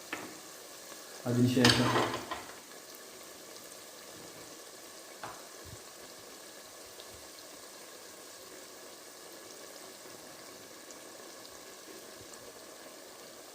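Onions frying in oil for Kerala prawn biryani, a steady close sizzle lasting throughout, with a louder burst of bubbling and stirring near the start and a single short spoken word.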